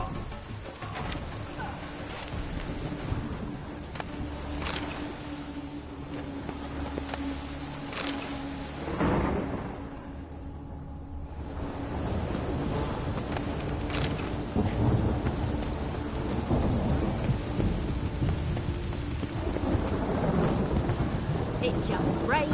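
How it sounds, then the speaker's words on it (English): Rain falls steadily in the Witcher 3 video game while thunder rumbles in deep, rolling waves, and a few faint bird calls come through the constant downpour. "It just rains and rains."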